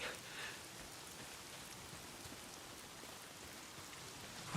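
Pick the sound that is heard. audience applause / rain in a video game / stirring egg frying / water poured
rain in a video game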